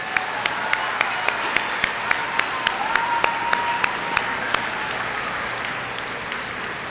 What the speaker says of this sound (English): Let's give all our speakers another round of applause.